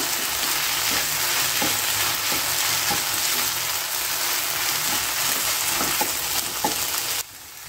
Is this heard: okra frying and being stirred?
yes